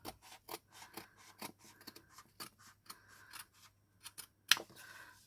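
Scissors snipping through checkered fabric for decorating a claw hair clip, a quick irregular series of close, crisp cuts with brief pauses, one sharper snip near the end.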